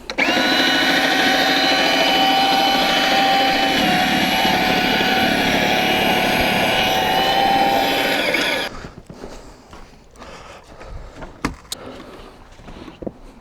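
A Ryobi 40V cordless electric snow shovel runs loud and steady with a high motor whine while throwing snow. It cuts off sharply partway through, leaving faint scattered handling noises.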